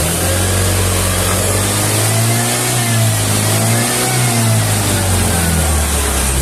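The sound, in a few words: Vario carburetor scooter engine revving with stutter at low RPM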